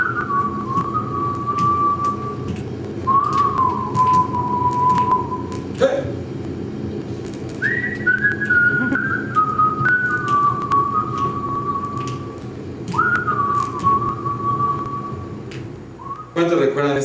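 A person whistles a catchy reggae tune, clear melodic phrases repeating over a steady background hum.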